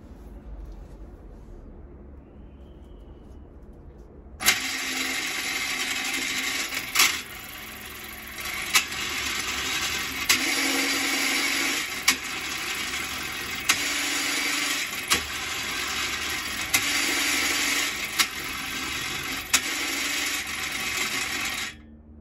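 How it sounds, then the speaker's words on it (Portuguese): A small motor driving a homemade reverse gear built from recycled bicycle parts starts up after a quiet stretch and then runs continuously, with regular sharp clicks and clunks repeating every couple of seconds as the mechanism shifts. "Então aqui o motor, passador de marcha aqui, que vocês vão ver aqui mudando. Então agora eu vou ligar ele."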